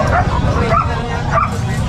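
Puppies yip and bark in short, high bursts at a pet market, close by, with people talking over them.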